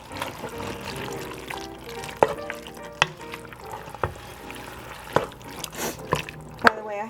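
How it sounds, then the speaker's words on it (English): A spoon scrapes and clinks against a pot of chili on medium-high heat while it is stirred, with soft bubbling and a few sharp knocks close by. "Let me stir that up a little bit."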